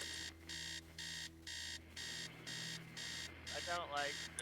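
A repeating electronic alarm tone in the video game Stories Untold, beeping in steady on-off pulses about every half second, moderately loud, with a brief voice-like warble near the end.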